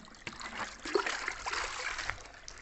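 Water is sprinkled outdoors at a new house, a soft irregular trickling and splattering that swells and fades in uneven bursts, fairly quiet with no talk.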